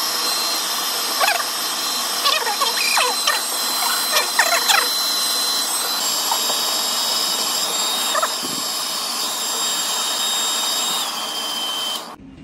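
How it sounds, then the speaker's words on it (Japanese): A hair dryer blows continuously and loudly for about twelve seconds, drying a short men's spiky haircut in a salon, with faint scissor-like clicks and handling noises early on before it cuts off at the end. "はい、ドライヤーが終わりました。"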